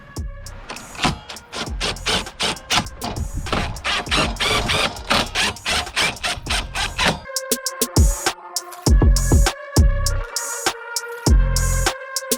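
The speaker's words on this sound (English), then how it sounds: "tightened down these bolts with the locking nuts underneath here" A ratchet wrench clicks in rapid bursts while tightening lock nuts onto the overhead rack bolts of a Jeep Wrangler JL, followed by slower, spaced ratcheting strokes and metallic clanks close up; no talk.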